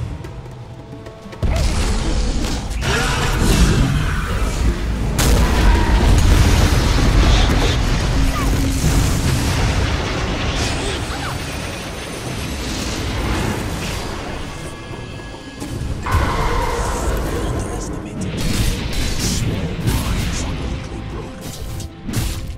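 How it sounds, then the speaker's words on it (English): Dota 2 match audio with a tower under attack: dense, loud bursts of booming impacts, crashes and pops that run almost continuously for over twenty seconds, with brief dips in intensity. "Radiant's bottom tower is under attack."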